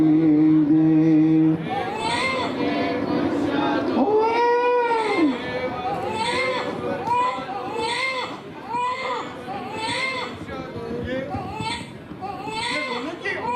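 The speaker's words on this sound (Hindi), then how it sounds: "ये रोने की आवाज" An infant cries in repeated wavering wails with short pauses between them, moderately loud amid the sounds of a crowded Ram Leela performance, with some talk and background noise around it.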